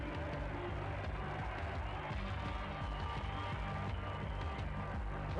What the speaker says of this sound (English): with the crowd on their feet, cheering him on